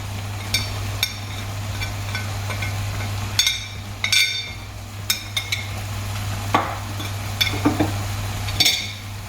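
Penne arrabbiata with parsley being stirred in a pan of tomato red sauce, with intermittent utensil scrapes and clinks over a steady low hum and faint sizzle.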